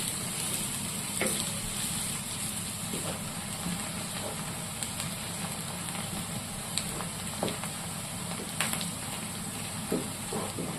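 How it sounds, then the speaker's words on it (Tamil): Onions frying in oil in a pan for Tamil squid curry, a steady close sizzle and hiss with occasional small pops and crackles throughout. "வெங்காயம் நல்லா எண்ணெயில் வதங்கிடுச்சு"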